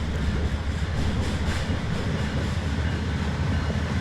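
A train rumbles across a working bridge in Euro Truck Simulator 2, a dense, steady roar with faint rhythmic clatter that holds at a loud level throughout, with no voices.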